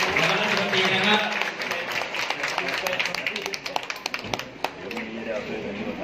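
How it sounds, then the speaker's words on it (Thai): Audience applause for a former minister and party team at a municipal event in Thailand, a sustained patter of clapping beneath an announcer speaking through a loudspeaker, with a few louder claps near the end. "ขอเสียงปรบมือให้กับนะครับท่านและรัฐมนตรีนะครับ"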